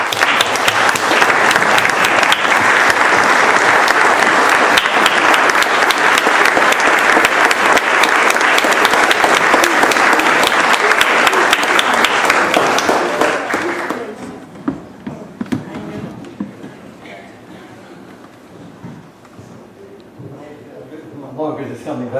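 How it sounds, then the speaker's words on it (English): Loud, sustained audience applause at a Hambourg Conservatory centennial celebration, dense clapping for about thirteen seconds before thinning into scattered claps and murmuring voices. "stand while we give them a good round of applause"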